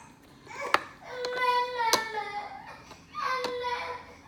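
A voice sounds from the background of a room in a few short, rising vocal bursts with gaps between them, fairly faint under a low steady hiss.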